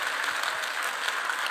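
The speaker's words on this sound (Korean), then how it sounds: "하나님께 영광의 박수 올려드립니다." A church congregation claps together in sustained, dense applause, an even wash of hand claps with no pauses throughout the short stretch.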